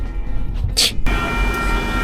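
Train passing in snowy mountains during a winter storm, giving a steady loud rumble with a brief higher whoosh as it goes by.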